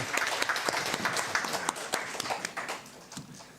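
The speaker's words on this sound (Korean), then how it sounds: "감사와 영광의 박수 올립니다." A church congregation claps together at a Sunday worship service, a steady run of dense applause with some sharper individual claps, no speech over it.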